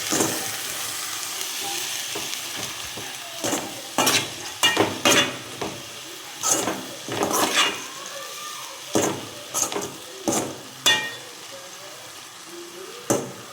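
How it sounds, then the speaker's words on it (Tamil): Chopped banana flower sautéed in a pan, a low frying hiss broken by repeated loud scraping and clattering strokes of a spatula against the pan, coming in irregular bursts. "நல்லா வாழைப்பூ வதக்கணும்"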